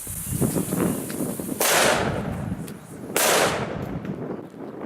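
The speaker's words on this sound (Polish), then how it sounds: "Najpierw wybucha ET05, a później to duże bydle." An ET05 firecracker bangs, then a large firecracker explodes about a second and a half later, both loud, close, broadband blasts with decaying tails over outdoor background noise.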